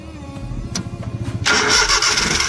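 A van's engine turns over with a rhythmic starter cranking, then catches and settles into a loud, steady running roar close by, with no talking.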